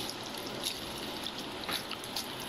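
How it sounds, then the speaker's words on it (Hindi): Cold tap water pours over boiled macaroni in a strainer in a kitchen, making a soft steady trickle with faint splashes and drips and no talk. "ये देखिए अब मैं पानी डाल रही हूँ इनके ऊपर"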